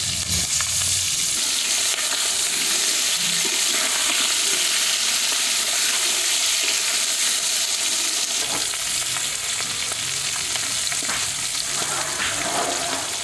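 Fish frying in mustard oil in a wok gives a steady, loud sizzle that runs throughout with no pauses, along with faint stirring and clinks.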